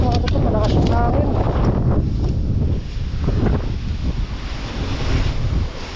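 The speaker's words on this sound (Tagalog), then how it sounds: "malakas yung hangin" Strong wind roars and buffets against the microphone, loud and continuous, near open water with a hint of surf underneath, and a voice speaks briefly early on.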